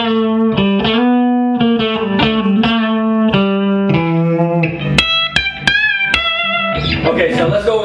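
An electric guitar plays loudly through a Marshall JCM 900 4100 amplifier set at half volume: distorted sustained notes with slides, then sharp, choppy stabs and a final chord.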